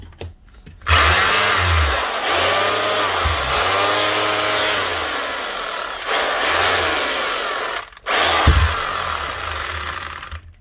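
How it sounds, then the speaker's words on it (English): A 2021 Makita HR2630 SDS rotary hammer drill runs loud and close in several long bursts, with a steady motor whine and a hammering rattle, each stopping with a falling pitch as it spins down. "Running fine, sounds like she's hammering"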